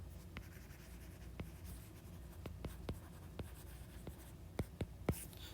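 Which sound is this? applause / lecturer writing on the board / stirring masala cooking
lecturer writing on the board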